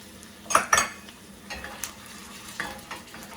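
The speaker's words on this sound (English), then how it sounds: "let that cook for a minute or so, soften them up, and brown them a little bit" Garlic cloves and dried red chili peppers fry in a pot for a spicy chicken soup, with a soft sizzle under a few sharp metallic scrapes and clinks of stirring.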